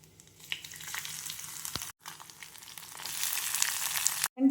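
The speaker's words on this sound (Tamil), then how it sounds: "கடுகு சீரகம் போட்டு தாளிக்கணும்." Mustard and cumin seeds crackle and sizzle in hot oil, a bright spitting hiss that swells louder toward the end, with a brief pause midway.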